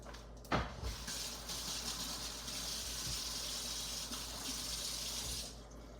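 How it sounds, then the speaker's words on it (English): Tap water pours steadily into a sink while lion's mane mushroom is rinsed under it, a continuous close splashing flow with small shifts as the mushroom moves. "I'm gonna rinse this off a little bit."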